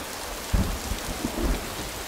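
Steady rain falls outdoors in a dark spell, a soft continuous wash of drops with a few low thumps and bumps rising briefly over it, no voices.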